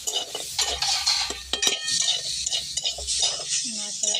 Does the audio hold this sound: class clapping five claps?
no